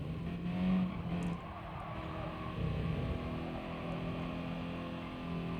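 Subaru Impreza race car engine in Gran Turismo Sport, a steady, loud racing drone with shifting revs and a brief tire squeal as the car runs wide on the circuit, with no talk over it.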